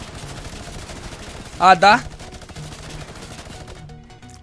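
Gunfire from a minigun in the video game Fortnite, a brief loud burst of two quick bursts over steady game background noise, with a player talking.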